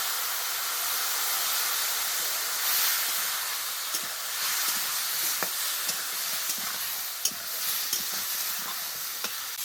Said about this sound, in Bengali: এবার সব কিছুকে খুব ভালোভাবে কষাতে হবে।